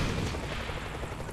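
Gunfire in Saints Row: The Third, a continuous dense barrage of loud, close shots with a heavy low boom throughout a short burst, no voices.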